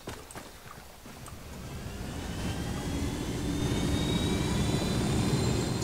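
Aircraft engine noise from a helicopter in Ghost Recon Wildlands swells steadily from moderate to loud, a continuous roaring drone with faint high whine, no voices over it.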